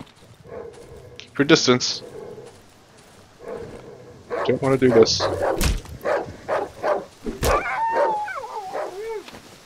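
Dogs in the horror game Darkwood bark and yip in short bursts under a man's speech, with whimpering tones and scattered thumps of combat between the barks.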